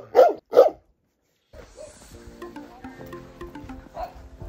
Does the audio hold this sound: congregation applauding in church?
no